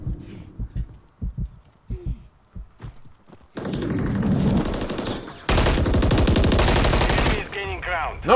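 Rapid automatic gunfire from the video game Call of Duty: Modern Warfare III on PS5, long sustained bursts that follow a stretch of short thumps and a man's speech, loud and dense up close.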